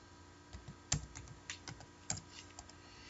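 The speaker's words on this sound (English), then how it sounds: "let's type the password" Password typed on a computer keyboard at a CentOS 7 terminal: a short run of soft, scattered key clicks with a couple of sharper taps, close and quiet, no talking.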